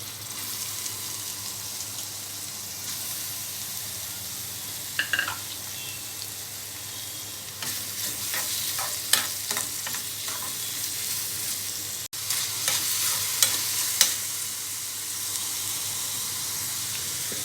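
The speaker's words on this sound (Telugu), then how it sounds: "ఆయిల్ వేసుకున్న తర్వాత ఇందులో బీరకాయ ముక్కలు వేసుకోవాలి" Ridge gourd pieces sizzle steadily in hot oil in a pan, a continuous loud fry with scattered crackles and occasional stirring scrapes throughout.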